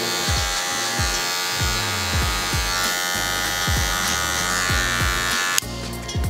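A Babyliss Pro hair clipper buzzes steadily and loudly up close while cutting a skin fade, with a repeated rhythmic pulsing as it passes through hair, then a sudden shift in tone near the end.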